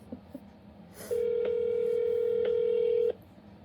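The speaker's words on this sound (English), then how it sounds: "It's dialing." Telephone dialing tones for a call to an unknown number: a steady tone holds for about two seconds with brief clicks inside it, following a soft faint start.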